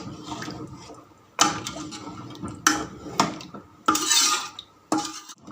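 Beef trotters stirred with masala in a pot on a stove, with a spoon scraping and clanking loudly against the metal in several sharp knocks between stretches of scraping.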